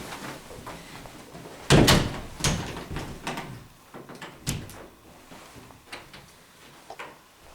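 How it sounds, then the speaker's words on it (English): A door in a house is opened and closed: several sharp thuds and latch knocks spaced irregularly across the stretch, fairly close, with quieter handling sounds between them. "Check this door."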